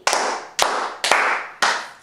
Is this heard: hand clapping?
yes